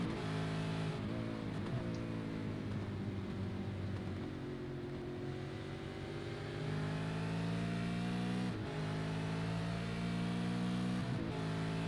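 V8 Supercar race engines at Watkins drone loudly and continuously, with several rising revs and gear changes, a car passing close near the end.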